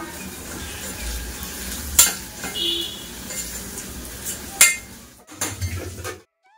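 Potatoes fry in a pan, giving a low sizzle broken by several clinks and scrapes of a utensil on the pan before the sound cuts out abruptly.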